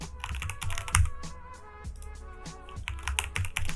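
Someone types on a computer keyboard while setting up an account. The keys clatter close and clear in quick irregular bursts, with short pauses between groups of strokes.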